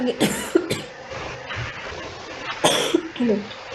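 Someone coughs nearby in a few sharp bursts, a pair early on and another harsh cough later, with quiet breathy pauses between.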